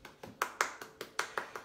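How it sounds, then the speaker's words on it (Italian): Hand claps on an Italian home theater show, about eight sharp, evenly spaced claps in a quick steady rhythm, fairly faint and close, with no voices over them. "facciamo un applauso"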